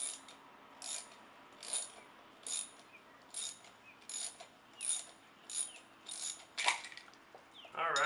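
A ratchet wrench fitted with a 9/16 inch socket works a fastener on a pool pump, about ten evenly spaced clicking ratchet strokes, close and crisp, with no talk.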